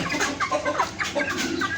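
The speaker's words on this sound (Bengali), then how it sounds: "এগুলো সবগুলো মুরগি আর একটা হলো মোরগ আর কি" Tiger-colored hens and a rooster cluck in quick, close, overlapping bursts, a busy chorus of short calls.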